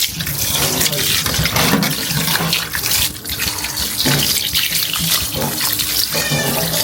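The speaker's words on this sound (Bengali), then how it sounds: "এখন আমি মাংসটা সুন্দর করে ধুয়ে নিব।" Sacrificial meat is washed under a running kitchen tap, with loud, continuous rushing water and splashing, shifting as the meat is handled; a voice is faintly present underneath.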